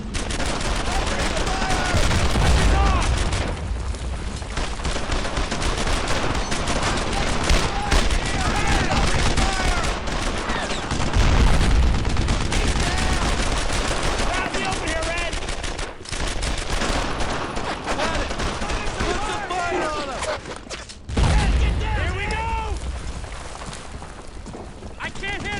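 Dense World War II squad gunfire in Brothers in Arms: Earned in Blood, with rifles and machine guns rattling continuously and loudly in bursts, heavy booms underneath, and soldiers shouting orders throughout.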